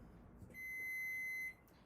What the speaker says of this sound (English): the timer went off for our second round of cookies